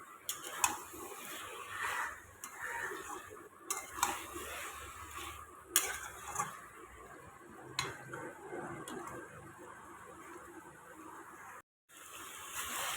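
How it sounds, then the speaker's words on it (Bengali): Chicken gizzards and liver sauté in oil in a pan, a spatula scraping and clinking against the metal in irregular strokes over a steady low sizzle, with no voices. "এবার সুন্দরভাবে এটাকে কষিয়ে কষিয়ে একদম শুকনো করে"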